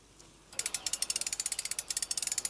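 The ratcheting mechanism of a power-line tug on an earth wire, worked by a handle that raises or lowers a tension roller: after a quiet moment, a fast, steady run of about two dozen sharp metallic clicks, close and alone.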